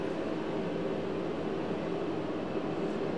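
A heater runs steadily in a cold garage while work is done on a 1981 Toyota Celica convertible with a 22R engine, giving a constant broadband roar with a low hum, close and unbroken, with no talking.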